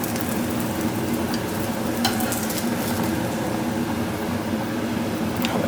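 Small, quarter-inch-thick bluegill fillets fry in a pan with a steady, close sizzle and crackle throughout, with a few sharper pops from the hot oil.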